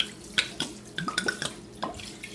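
White Oak rum from Trinidad pours from a bottle over fruit soaking for black cake, a close splashing, gurgling stream with a few louder glugs, no talking.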